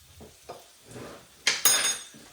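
Flour whisked into fat in a hot pan for a cauliflower cheese sauce, heard as a few clinking whisk strokes against the pan with soft sizzling between them, close and moderately loud.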